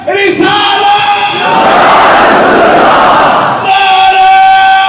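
Loud massed shouting from a crowd at a Muharram majlis in an imambargah, chanting religious slogans in unison: a sustained chanted line, a roaring collective reply in the middle, then the chant resumes, all close and powerful.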